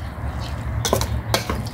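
Pork marinade stirred in a bowl, with two short scraping, clinking strokes of a utensil against the bowl over a low steady hum, close up and with no voice heard.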